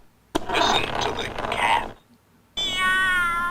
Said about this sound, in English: that sounds exactly like a cat